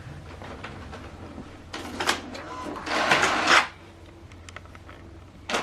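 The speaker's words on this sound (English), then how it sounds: "Now this document is printing." HP DeskJet 3775e inkjet printer printing a document: a low mechanical hum with whirring paper-feed and carriage passes, swelling into a louder buzzing stretch before settling again, close by with no talk.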